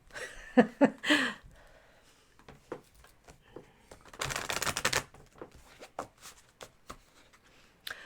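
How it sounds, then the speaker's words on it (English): Tarot cards shuffled by hand at close range, a crisp riffling burst in the middle with scattered card taps and slides around it, while people speak quietly in the background. "did you shuffle those? Yes, I did."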